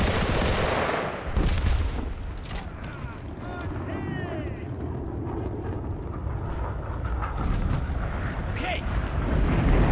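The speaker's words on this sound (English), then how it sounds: "hold calling in artillery" Distant artillery shelling in the WWII shooter Enlisted, with rumbling booms and scattered shots over battlefield noise, while voices talk briefly.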